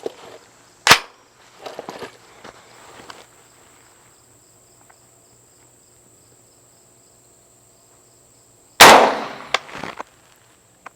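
Two loud, sharp gunshots from an Extar EP9 pistol with a 6.5-inch barrel firing match-grade ammunition, about eight seconds apart, with small clicks and handling between them and a steady high insect-like chirp or chronograph tone throughout.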